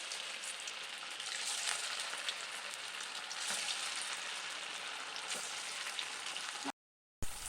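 Poha (aval) vada batter fries in hot oil with a continuous, even crackling sizzle that holds throughout, broken by a brief silent gap near the end.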